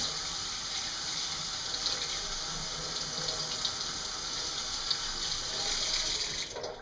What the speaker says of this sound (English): just quickly rinsing them off